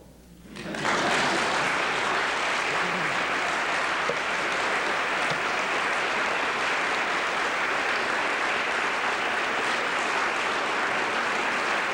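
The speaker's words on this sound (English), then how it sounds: "You can applaud." An audience applauds after a lecture by N. Scott Momaday, dense sustained clapping that starts suddenly from near quiet and holds loud and even for over ten seconds with no voices.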